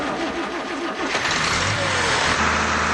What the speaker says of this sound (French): voilà la machine qui pétarade à tout va